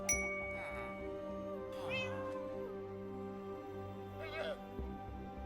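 A Minecraft cat meows three or four times at uneven intervals over a steady game music bed, the calls fairly clear and close.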